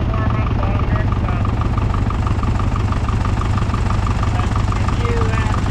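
Corn harvest tractor idles as it warms up, a steady low engine drone with a regular mid-range throb running loud and continuous throughout.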